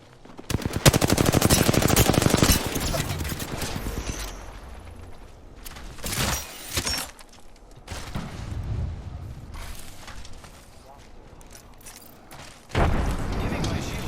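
Rapid automatic gunfire in a shooter video game, loud near bursts of machine-gun shots with heavy booms and pauses between volleys, while a voice talks over it.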